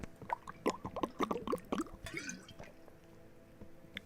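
Wet gulps and sloshing swallows of water come from drinking in the VR game Into the Radius, a quick irregular run of close liquid sounds for about two seconds before trailing off into quiet.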